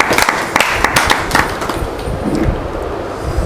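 An audience applauds poet Tarsem Noor at a literary gathering, a dense, steady wash of clapping that stays loud and close for the whole stretch without letting up.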